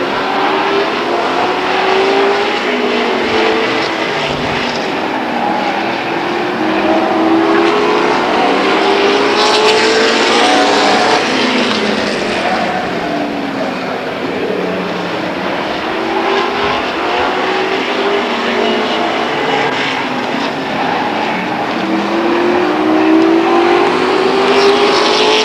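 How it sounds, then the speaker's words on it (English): Stock cars racing at Stockton 99 Speedway, a continuous loud roar of engines rising and falling as cars circle the track, with no break in the noise for the whole stretch. "Crawford works his way around the number 11 car of Mike Moniz."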